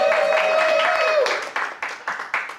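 An audience at a speech event cheers and applauds, a sustained crowd roar giving way to rhythmic bursts of clapping, loud and close, with a voice heard briefly.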